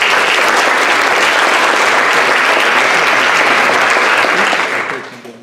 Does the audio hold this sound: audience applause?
yes